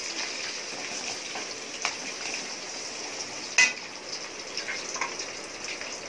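Dried red chillies, green chillies and ginger fry in a pan over low heat with turmeric added, giving a soft, steady sizzle with a few faint clicks and one sharp tap.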